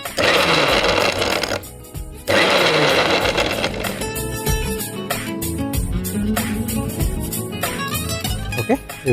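A mixer grinder whirs loudly as it coarsely grinds tomato pieces for radish chutney, running in two bursts with a short pause. Then the jar rattles and clatters.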